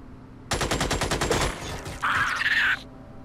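Weapon fire in the tactical game Xenonauts: a fast rattling burst of automatic shots lasting about a second, followed by a bright, hissing sustained blast, fairly close and clear.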